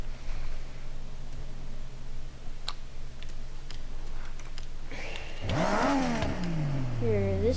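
Nissan Sylvia drift car in Forza Horizon 6 with a 2.5-litre engine, all-wheel drive and body kit: a steady low engine drone with faint clicks, then a loud rising rev sweep that climbs and falls near the end.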